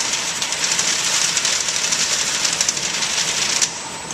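A 5 kW magnetic drive prototype with neodymium magnets spinning at about 50 and 250 RPM, giving a steady mechanical whir with a rapid rattling texture, loud and continuous before easing near the end.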